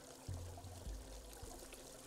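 Water pours and fills up in the video game Unravel, a soft, faint continuous trickling stream with a few low surges, heard alone.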